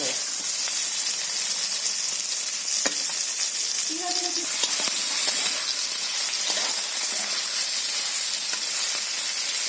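Ridge gourd frying in mustard oil in a kadai, with a steady, close, continuous sizzle that runs the whole stretch and a brief stirring clink partway through; no talking.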